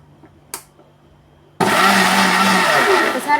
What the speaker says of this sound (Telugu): ఇప్పుడు దీన్ని మిక్సీ పట్టేసుకుందామండి